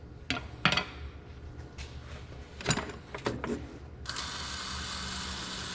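Gears of an 1855 tractor transmission turning after a shift into low range, a run of mechanical clicks and ratcheting clatter, then a steady broadband whir from about four seconds on, close and moderately loud.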